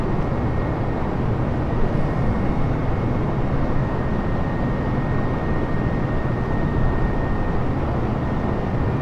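Airbus A320 climbing in Microsoft Flight Simulator 2020 on a flight from Hawaii to San Francisco, a steady, loud broadband jet engine roar with a thin constant whine held evenly throughout, no voices.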